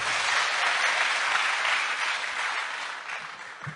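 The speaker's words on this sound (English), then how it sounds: "Give yourselves a clap." A crowd at a speech event claps in a sustained, even wash of applause that tapers off gradually, heard alone without speech.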